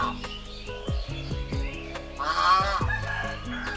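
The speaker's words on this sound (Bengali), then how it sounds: "বেশ কিছু রাজহাঁস আছে এখানে।" Several domestic geese at a rural eco village resort honk in a repeated series of loud, nasal calls close by, with smaller bird chirps in the background and no talking.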